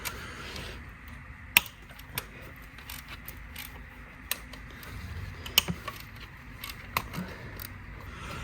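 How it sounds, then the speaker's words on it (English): Two nuts being undone on the EGR cooler pipe of a Mazda 6 2.2 Skyactiv diesel, with faint, irregular metallic clicks and ticks of a tool at close range over a quiet background. "So let me remove the two nuts."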